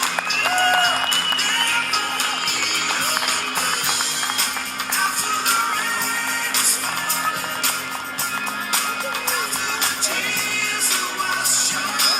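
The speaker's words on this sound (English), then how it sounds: "Start clapping your hands and get him up here." An outdoor audience in Justus Park, Oil City, clapping for a district attorney candidate being called up, a sustained, loud round of applause with scattered whoops and crowd chatter mixed in.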